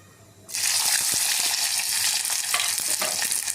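Garlic, ginger, onion and tomato hitting hot oil in a pan: after a quiet start, a loud sudden burst of sizzling hiss continues steadily, with a few stirring clicks.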